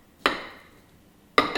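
A knife cuts open a microwave-cooked pumpkin, producing two sharp, close thuds on a board about a second apart, the second followed by a quick extra knock.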